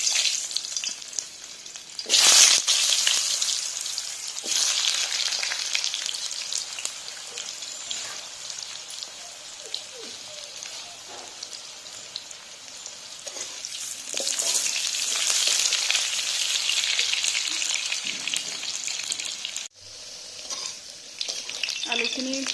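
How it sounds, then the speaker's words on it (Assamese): Potato pieces fry in hot mustard oil in a wok, making a steady, moderately quiet sizzle with occasional stirring scrapes and faint background voices. "তেল গৰম হৈ গৈছে মই ইয়াত আলু কেইটুকুৰামান ভাজি লম"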